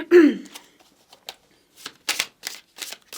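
Tarot cards are shuffled by hand in quick, crisp riffling bursts that repeat in an uneven rhythm, close and fairly loud.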